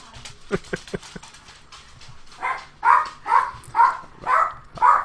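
Several sharp barks ring out close by, a quick cluster of short ones followed by five louder, evenly spaced barks.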